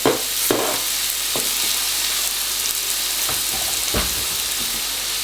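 Grated vegetables stirred in a pan with olive oil for grated soup, a loud continuous hissing sizzle broken by a few scraping stirs.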